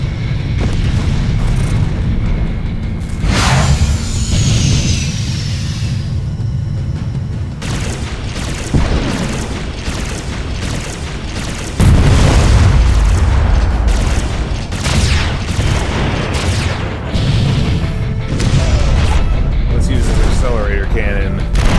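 Artillery fire mission in the space combat game Freespace 2, a series of deep booming blasts and rumbling impacts over a low engine drone, with speech heard between explosions.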